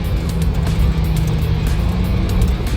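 Steady low engine drone and road rumble from a 1988 Jeep YJ 4x4 with an automatic transmission cruising along, loud and close, continuous without voices.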